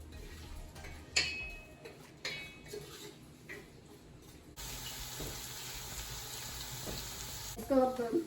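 Onions sizzling in hot oil in a pan while being browned for a cauliflower and meat curry, a steady crackle with occasional clinks and stirring and no talk.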